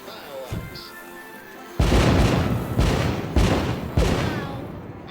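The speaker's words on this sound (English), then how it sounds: "Light up those fireworks," Fireworks going off in a VR video game set in an American setting, with a series of loud booming bursts about every second and a half after a quieter opening, each explosion crackling as it fades.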